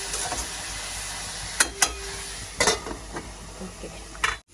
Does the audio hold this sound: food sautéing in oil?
yes